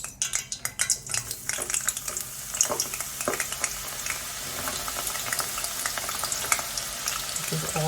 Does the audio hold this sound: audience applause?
no